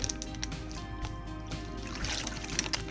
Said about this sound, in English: So combination of these two in the bag is going to heat up the food when I add water.